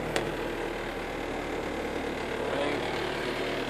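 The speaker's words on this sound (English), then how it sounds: "Engine is idling right below 1." A coupe's engine idles just under 1,000 rpm, a steady low hum and rumble that stays even and continuous, heard from close by with no voices.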